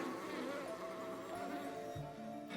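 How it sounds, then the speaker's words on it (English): Upset bees in the game Book of Hours make a soft, continuous insect drone with faint wavering tones, steady and unaccompanied by speech. "Sometimes the bees are upset."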